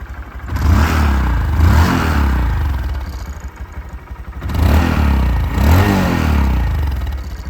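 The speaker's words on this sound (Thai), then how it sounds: "แล้วก็ลองมาดูตอนที่บิดจากด้านบนกันบ้างนะครับผม" A heavily accessorized Honda Monkey motorcycle engine is revved close up with two throttle twists. Each one swells into a loud, buzzy roar and then falls back to a lumpy idle, with no talking.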